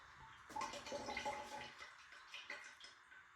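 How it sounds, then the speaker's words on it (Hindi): Indoors, water runs and drains away noisily in a faint, steady gurgling rush that swells and ebbs, heard alone without voices. "ये पानी भी आवाज़ करके जा रहा है"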